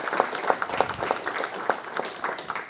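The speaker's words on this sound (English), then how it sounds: "Let's give her a round of applause for bringing them out." Audience at a council meeting giving a round of applause: a small group's scattered claps, moderately close and fairly steady for a few seconds, with no speech over them.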